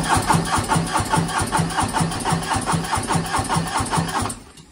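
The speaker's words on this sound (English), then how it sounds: "So now let's start the engine." A Harley-Davidson Low Rider ST motorcycle engine starts and runs with a loud, close, steady pulsing beat, then cuts off abruptly near the end.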